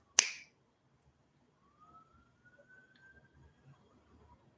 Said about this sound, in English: As I snap my fingers, see if you can become attentive to the instant you hear it